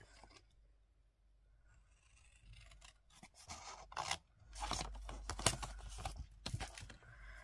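Scissors snip through a paper square for a Christmas-themed explosion craft box, a run of short crisp cuts that start faint and grow closer and louder.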